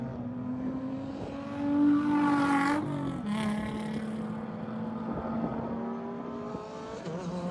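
A Nissan race car screams past during a 2022 World Racing League endurance race at High Plains, its steady high-revving engine drone shifting pitch midway as it goes by, loud and close throughout.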